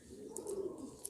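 Pigeon cooing, a soft low murmur repeating through the short stretch and audible alone at close range, with a couple of faint higher chirps.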